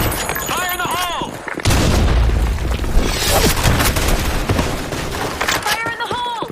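A grenade bursts in a video game with a heavy, close boom and a long rumbling roar that settles slowly. Brief in-game voice callouts come before and after it.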